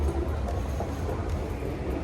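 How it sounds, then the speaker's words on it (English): A train pulls away from a station platform in Sydney, its low steady rumble and rolling wheel noise filling the whole moment at close range with no voices. "Oops, I just missed the train."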